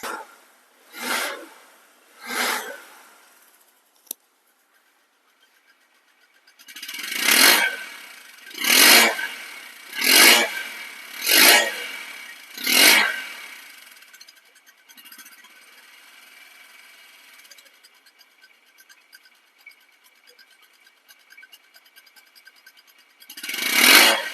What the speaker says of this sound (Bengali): একদম smooth sound showroom condition sound কিন্তু এই বাইকটির মধ্যে আছে